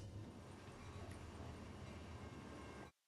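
A train rolling past in the Roblox video game gives a steady, dense rumble at even loudness for nearly three seconds, then cuts off abruptly into silence. No voices are heard.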